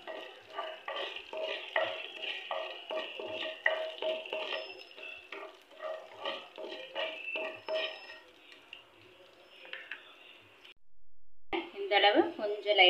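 Food sautéing in a pan for onion coconut chutney, with steady stirring scrapes and a soft sizzle, close and fairly quiet, briefly stopping near the end before resuming.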